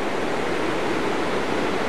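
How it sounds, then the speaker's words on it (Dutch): A mountain stream swollen with water after overnight rain rushes in a loud, dense, constant roar, close by and steady from start to finish, with no voices. "Prachtige bergstroom. Veel water, want het heeft vannacht geregend."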